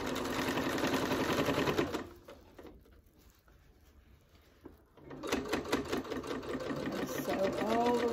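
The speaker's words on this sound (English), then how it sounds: "Sew all the way to the edge." A sewing machine stitches fabric for a hot pad with a steady, close mechanical whir and patter. It stops for a few seconds of quiet and then runs again at the same loud pace.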